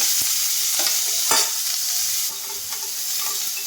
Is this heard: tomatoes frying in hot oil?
yes